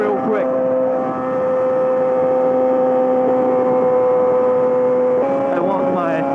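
A Yamaha R6 sport bike with a full M4 exhaust system drones loudly and close at high, steady revs, then shifts to a new pitch near the end, with a voice faintly audible at times.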